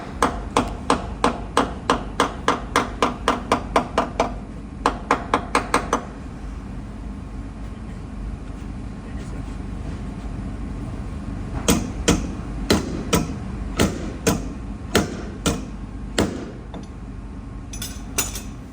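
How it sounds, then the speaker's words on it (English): Rapid metallic hammer blows on the edge of a BMW X5 quarter panel ring out in quick bursts, pausing for several seconds in the middle before another run of strikes, close and sharp. "I'm just going to hammer down any like high areas just to relieve the pressure"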